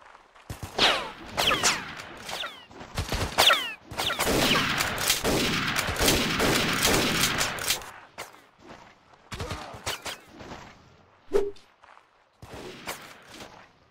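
Machine gun fire in a World War II setting of Mount & Blade: Warband rattles in long, dense bursts, with a sustained stretch of chattering shots, then scattered single cracks and short volleys with gaps between them.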